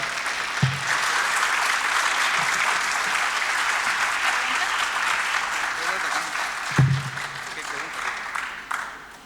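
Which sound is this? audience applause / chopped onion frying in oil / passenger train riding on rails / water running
audience applause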